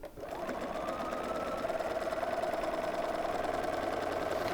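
Sewing machine stitching quilt block patches for a Fifty-four Forty or Fight block, a close, steady, fast mechanical hum that starts abruptly and runs without pause.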